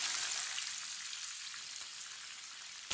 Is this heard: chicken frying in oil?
yes